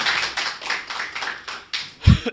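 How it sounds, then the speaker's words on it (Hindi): Audience clapping at a Hindi poetry recital, a rhythmic burst of claps rising and falling in waves, ending in a brief louder thump near the close; no voices. "पुनः बजा दीजिए"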